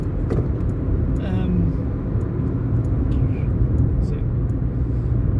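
Inside a car driving on UK roads between Wales and England, a steady low road and engine rumble fills the cabin throughout, with someone talking over it.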